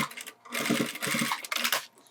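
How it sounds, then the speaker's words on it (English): A sewing machine topstitching a zipper wallet runs in three short, quick bursts of rapid needle chatter, close and clear, with brief pauses between them. "and then we top stitch."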